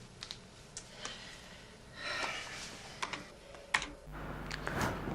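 Keys tapped on a Mac computer keyboard in scattered clicks and short bursts, close and fairly quiet, with a brief lower thump near the end and no voices.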